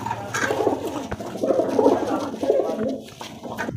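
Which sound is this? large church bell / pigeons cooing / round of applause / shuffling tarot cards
pigeons cooing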